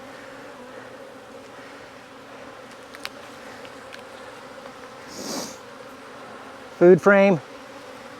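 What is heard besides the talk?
honeybees buzzing in a nuc hive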